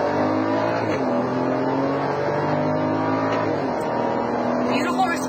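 A 2011 BMW X6 SUV with the 3.0-liter six-cylinder engine accelerating in manual sport mode, its engine note climbing steadily through the revs and then dropping at a shift, heard from inside the cabin at moderate loudness.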